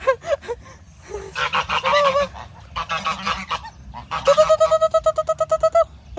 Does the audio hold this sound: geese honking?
yes